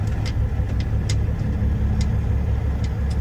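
A semi truck's diesel engine idles steadily up close, a continuous low rumble with faint ticking on top and no speech.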